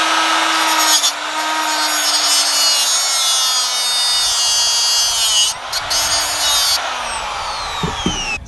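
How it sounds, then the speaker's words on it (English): An electric cutoff tool cuts through 9 gauge wire outdoors, a loud sustained high-pitched grinding whine with a slowly falling tone and brief interruptions near the end. "this is an electric cutoff tool that I'm using, and this is pretty much the only way to cut this wire because it's 9 gauge"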